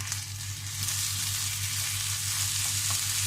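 Minced meat and onions sizzling in a pan as tomato paste is stirred in, giving a steady, close frying hiss throughout with a low hum beneath.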